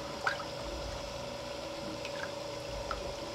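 A cooled circuit board, being etched, is lowered into a shallow tray of water, giving faint small splashes and drips against a quiet, steady room hum.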